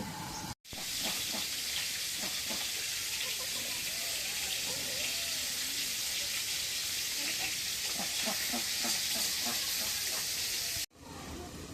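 Curry sautéing in a pan gives a steady, close hiss and sizzle that runs almost the whole way, with faint stirring clinks and a brief break near the start and end.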